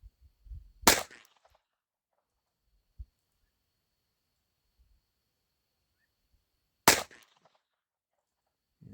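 Two sharp, loud shots from a Colt Woodsman pistol, a fire-survivor gun with a stiff, awful trigger, crack outdoors several seconds apart, each with a short tail, amid quiet with faint handling thumps.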